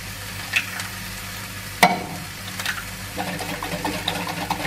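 Three small eggs frying in butter in a pan, a steady close sizzle with a sharp crackle near the start and light scraping as the food is moved.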